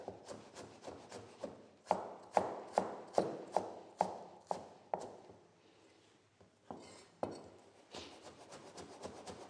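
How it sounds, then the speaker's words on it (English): Fresh ginger being chopped finely with a knife on a board while making Nepalese momo: a quick run of sharp, rhythmic chops close by, a brief lull, then another burst of strokes, with no talking. "I've finely chopped the ginger and add it with the onion"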